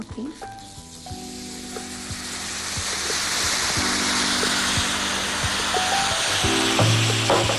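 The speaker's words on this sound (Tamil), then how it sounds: "இதுல ஒரு 1/4 கப் தண்ணி ஊற்ற போறேன் நான் இப்போ" A quarter cup of water hits a hot pan and sizzles, the hiss building from a crackle into a loud steady fizz, with a few clinks and tonal hums underneath.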